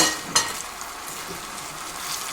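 Rabbit pieces with liver, rosemary and bay leaf simmering in a pan, giving a steady close sizzle and fry hiss with one brief louder sputter near the start.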